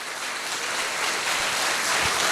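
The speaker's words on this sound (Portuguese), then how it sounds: "Pode aplaudir a Jesus e glorificar ao Senhor." A church congregation applauding during a Portuguese-language worship service, with dense, even clapping from many people that holds at a full, steady level from start to finish and has no talk over it.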